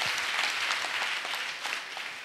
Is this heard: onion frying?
no